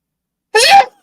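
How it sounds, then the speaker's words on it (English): A single short, sharp sneeze, loud and close, bursts out of otherwise near silence. "I felt that one coming. Bless you."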